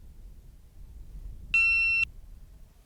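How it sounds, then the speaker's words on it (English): A GoPro camera gives a single half-second low-battery beep, a clean electronic tone heard clearly above faint outdoor background in a wintry mountain setting. "If you've just heard that beep, it's because my battery's just died on my GoPro again."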